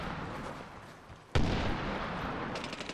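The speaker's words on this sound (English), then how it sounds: "Throw random grenades at that guy over there." A grenade blast in the Medal of Honor Warfighter multiplayer game lands as one loud broadband boom midway, with its rumble trailing off over a steady bed of distant gunfire and battle noise.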